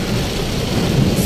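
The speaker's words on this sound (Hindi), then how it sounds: "बहुत खतरनाक ये बारिश आप देख सकते हैं" Heavy rain from a cloudburst in South Gujarat pours in a dense, steady roar with a deep rumble of thunder underneath, loud and continuous with no voices.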